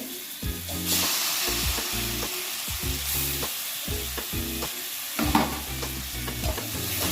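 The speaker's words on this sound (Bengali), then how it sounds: "দিয়ে ভালো করে বেগুনটাকে এই মশলার সাথে ভেজে নিতে হবে" Boiled eggplant fries with spices in a hot pan, a steady sizzle running throughout under repeated scraping and clattering strokes as it is stirred, close and fairly loud.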